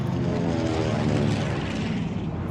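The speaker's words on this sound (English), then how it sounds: "Flying Tigers escort these retrofitted commercial planes" Propeller engine drone of a retrofitted commercial plane flying under Flying Tigers escort over treacherous mountain passes, a loud, steady, continuous roar filling the whole stretch without pause.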